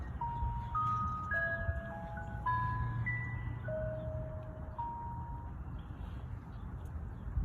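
Faint, high tinkling melody from a music box, single plucked notes in a slow tune, set against a steady low hum in a quiet room.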